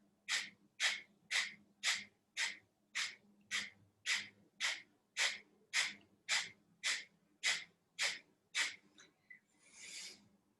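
Rapid, forceful exhalations through the nose in pranayama breathwork, about sixteen sharp regular puffs roughly every half second, close and fairly quiet, ending with a longer softer breath and no talking.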